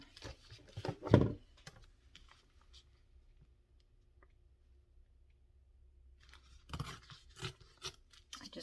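Scissors trimming paper for a craft journal, a few close, soft snips and rustles at the start, a long quiet stretch, then more snipping and handling of paper near the end.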